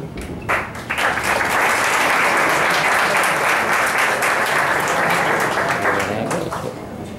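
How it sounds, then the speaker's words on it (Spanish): An audience at a high school graduation ceremony applauds a graduate, sustained clapping for about six seconds that swells quickly and then tapers, with faint voices underneath. "pueden aplaudir cada vez que llamen a su familiar"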